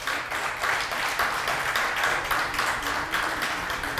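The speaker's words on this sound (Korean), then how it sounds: "힘찬 응원과 격려를 담아 큰 박수를 부탁드리겠습니다" Party members applaud at a People's Party Ulsan city chapter delegates' convention, a sustained wash of many hands clapping at moderate level, even and unbroken throughout.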